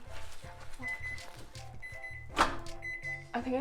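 A microwave oven emits a series of short electronic beeps as buttons are pressed to set its timer, close and clear, with brief voices and kitchen clatter between.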